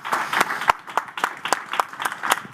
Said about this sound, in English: So if the audience could join me in a round of applause.